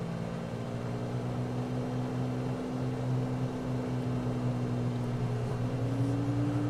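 A Navion propeller airplane engine idles in a flight simulator, a steady low drone with a constant hum that holds even throughout and then shifts slightly higher in pitch near the end as throttle rises.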